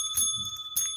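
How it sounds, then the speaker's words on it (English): Two bright metallic rings from a small bell sound in quick succession, sharp and close with clear sustained tones between the strikes, nothing else heard. "Goddamn bell."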